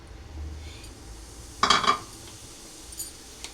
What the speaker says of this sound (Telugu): కలోంజీ సీడ్స్ అనేది వేస్తున్నాను.